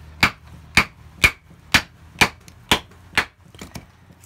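A Spartan Blades knife chops into seasoned apple hardwood with a bit of cherry, giving about seven sharp, evenly spaced woody thwacks, close and loud, followed by a few fainter knocks.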